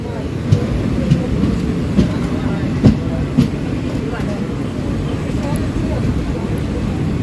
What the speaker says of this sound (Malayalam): കണ്ണൂരിൽ നിന്ന് ട്രെയിൻ ഡിപ്പാർട്ട് ചെയ്തിരിക്കുകയാണ്